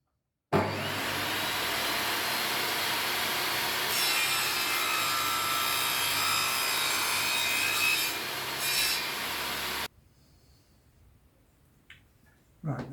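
Handsaw cutting through plasterboard, a steady rasping stroke noise close by that runs unbroken for about nine seconds before stopping abruptly, followed by quiet room tone and a couple of faint knocks.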